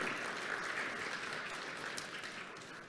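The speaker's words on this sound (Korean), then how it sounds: "권칠승 장관님께도 큰 박수 주시기 바랍니다" Applause at an award presentation for small-business management innovation honorees, a steady wash of clapping from a large audience, moderately distant and sustained throughout, without speech.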